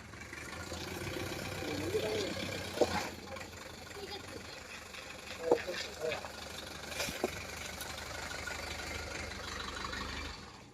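A Cruiser vehicle engine runs steadily near at hand, a low continuous rumble with a few brief knocks and bumps over it, while voices talk faintly in the background.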